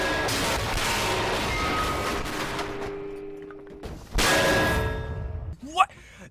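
The Dragon Slayer sword from the 2016 Berserk anime clangs in two loud, crashing metallic impacts, each ringing out and decaying before a short, sharp final hit.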